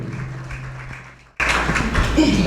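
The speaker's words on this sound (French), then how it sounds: "vite nous applaudir chaudement, mesdames et messieurs" Warm applause from a French-speaking audience at a slam poetry show for performer Stylo B bursts in suddenly after a quiet stretch, dense and steady clapping that fills the room.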